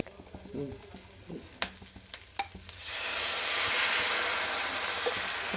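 Green chillies for pickle hit a hot pan after a few sharp utensil clicks and some speech, then settle into a continuous close hiss and crackle of sautéing that holds steady to the end.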